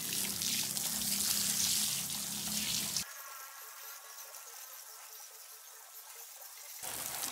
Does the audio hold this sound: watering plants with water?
yes